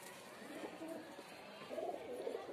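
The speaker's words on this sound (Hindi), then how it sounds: "फ्लाई वाला कबूतर" Soft, low pigeon coos repeat a few times at close range over a faint background hum, with no talking.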